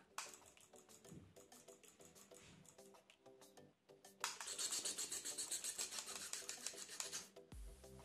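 Rapid repeated clicking in a mobile clicker game, a steady tapping stream that grows louder and denser over light background music.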